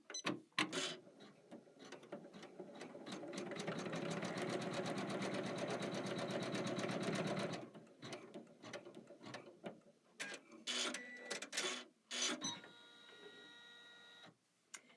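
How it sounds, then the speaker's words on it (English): A home embroidery machine runs a placement and tack-down line, a fast steady mechanical stitching rattle for several seconds. Quieter clicks, clunks and thumps of handling follow. "step 7 on your machine is going to stitch across the top of these. It's going to be a placement line and a tack down line."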